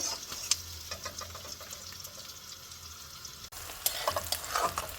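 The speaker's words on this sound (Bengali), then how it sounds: "পেঁয়াজ ভাজা হয়ে গেছে" Onions and crushed garlic frying with a steady sizzle, with occasional stirring scrapes and clatter in a pan, close and continuous.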